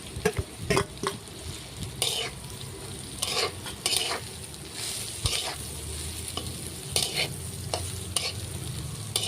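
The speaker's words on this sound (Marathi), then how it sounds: "आता लगेच आपण कोबी टाकून घ्यायचं," Chopped cabbage is stirred with turmeric, salt and spices in a hot pan, giving a steady sizzle under repeated scraping and clattering stirs. It is close and continuous, with no voices.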